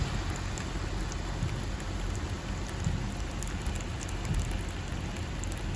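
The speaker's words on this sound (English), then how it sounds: "Like I said, it's rainy out." Steady rain falls at the Cape Canaveral Veterans Cemetery in Mims, Florida, a continuous close patter of drops on surfaces with no voices.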